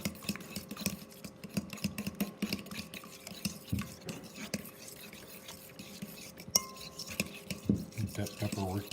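Milk and pepper are stirred into batter for fried halibut, a quiet, continuous scraping and clinking of a utensil against a bowl, with faint talk underneath.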